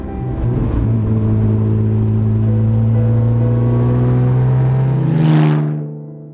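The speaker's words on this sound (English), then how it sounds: "today I'm driving this 1953 Jaguar C-Type Le Mans Works lightweight." A 1953 Jaguar C-Type Le Mans works lightweight race car engine drones loudly and close, holding a steady high rev before swelling briefly and falling away at the end.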